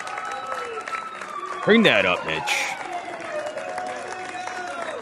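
A crowd at a stock exchange event applauds and cheers in a steady wash of clapping, with people talking close by over it.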